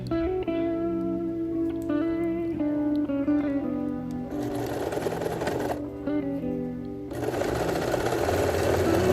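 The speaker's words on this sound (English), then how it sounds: "And I'm going to stretch this as I'm sewing it." A sewing machine runs a straight stitch through stretchy bikini fabric, its motor whirring in steady bursts with short pauses between runs, loud and close throughout with no talking.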